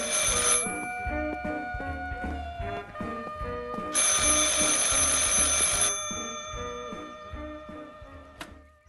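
A telephone rings in the psychological horror game Martha Is Dead, a loud repeating electronic trill in steady bursts with short gaps between rings, heard alone with no talk.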